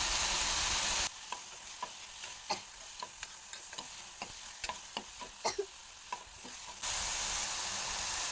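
Tomato masala with turmeric stirred in a pan, a soft steady sizzle running throughout with repeated light clicks and scrapes of the spoon against the pan, close and alone.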